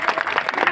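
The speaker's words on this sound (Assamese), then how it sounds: "এটা ডাঙৰ হাত চাপৰি আমাৰ ল'ৰা ছোৱালীখিনিৰ কাৰণে" Audience at the closing day of a workshop claps for the children in a brief, dense burst of applause, steady and close with no pause.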